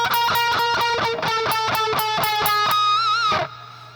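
Distorted electric guitar playing a repeated rhythmic pattern of short chopped notes from a song's solo, then a sustained bent note slowly released with vibrato before cutting off, loud and close with no talking.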